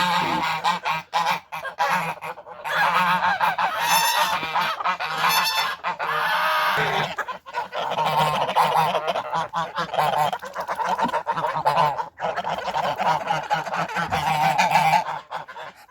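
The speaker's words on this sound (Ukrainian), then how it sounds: "Ось такі гарні молоді білі качурі різних ліній." A flock of young white drakes of a heavy duck breed, kept among older farm ducks, honk and quack loudly and nearly continuously at close range. Raucous overlapping calls come from many birds.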